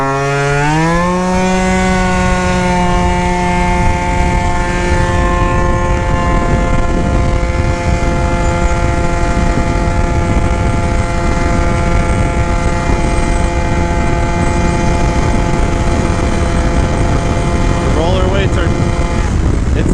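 A modified Yamaha Jog scooter cruises steadily at speed, its engine note climbing briefly at the start then holding a loud, constant high-revving drone with wind rush throughout.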